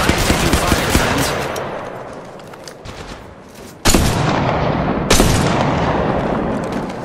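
Sustained automatic gunfire in the battle royale game Apex Legends Mobile, played in third-person view: loud, continuous rapid shots that briefly ease off, then resume twice in sharp, heavy bursts.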